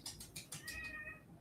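A house cat meows repeatedly at close range, a quick series of short calls ending in a longer drawn-out meow, in a quiet room.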